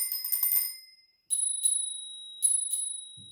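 A Spurcycle Original Raw bicycle bell rings in crisp, clear strikes: one sustained ring fading out, then four bright dings in two pairs, each leaving a long shimmering tone.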